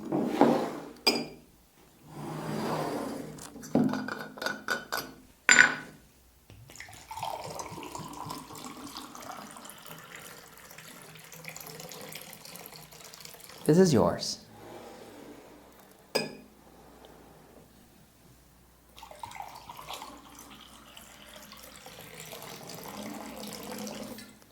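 Water pours into glasses with light clinks of glass, a few short bursts of pouring and tapping spread through the stretch, with brief speech between them.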